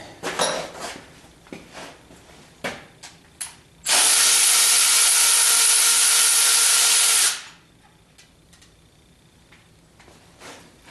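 A ratchet tool tightening cylinder head bolts on a 1976 Corvette restomod: scattered clicks, then a loud steady buzzing run of about three seconds that stops abruptly, followed by quieter handling noises.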